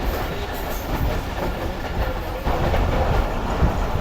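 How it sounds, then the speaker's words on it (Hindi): The Khyber Mail rumbles along the rails at speed on an overnight run toward Karachi, a loud continuous roar with faint rhythmic clatter of the wheels, heard from inside the carriage. "घोटके से निकलने के बाद कुछ इस तरह की स्पीड में ट्रेन आगे बढ़ रही है"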